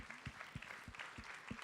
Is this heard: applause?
yes